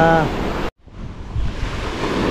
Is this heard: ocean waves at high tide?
yes